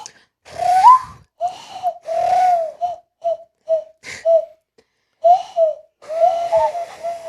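A series of breathy, hooting whistles blown through the knuckles of cupped hands, some short and some sustained, with wavering pitch and brief pauses between.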